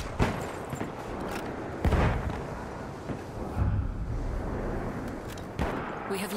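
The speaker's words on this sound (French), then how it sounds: "Je balance une grenade." Grenade blast in the video game Battlefield 1 during a Domination match on Verdun Heights, a loud boom near two seconds amid ongoing gunfire and battlefield noise, with a few other sharp bangs scattered across the clip.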